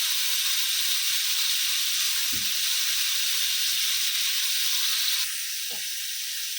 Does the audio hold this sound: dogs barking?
no